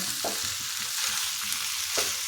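Amla (Indian gooseberries) frying in a pan over a high gas flame, a dense continuous sizzle with intermittent scraping stirs, close and loud, no speech.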